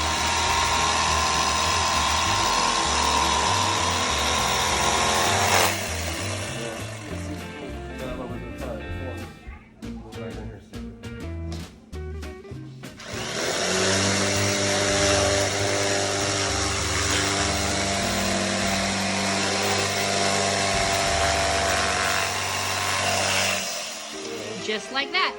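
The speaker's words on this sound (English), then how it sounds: "Not bad for a 20-year-old electric knife." A 20-year-old electric knife slices through material while remodeling a travel trailer's slide bunkbeds, giving a loud, steady motor buzz that stops for a few seconds and then resumes, with people talking nearby.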